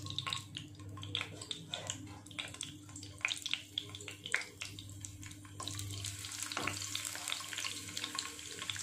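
Finely chopped garlic sautéing in hot oil for spicy Schezwan noodles, a close steady sizzle with spoon stirring and scraping that grows broader and louder in the second half.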